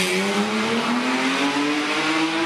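A rally car pulls away from the start of the second stage at Rally Cangas del Narcea, its engine note rising steadily for a couple of seconds, loud and unaccompanied by talk.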